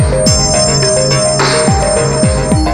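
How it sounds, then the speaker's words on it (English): A telephone rings on a radio call-in show, its repeating electronic bell trilling loudly and steadily in close bursts with no talk over it. "I see a call coming in"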